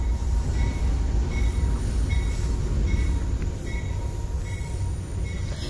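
Steady rumble of a passenger train riding between Marabá and Parauapebas, heard from onboard, with continuous wheel and carriage noise and faint high squeals, loud and unbroken with no talking.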